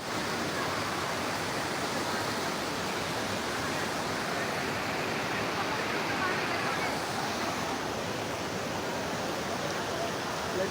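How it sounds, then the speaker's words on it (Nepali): The Shivajatta waterfall near Dharan, reached on a hike. A dense, steady rushing roar fills the whole clip, loud and constant. "हाम्रो यहाँको झरना"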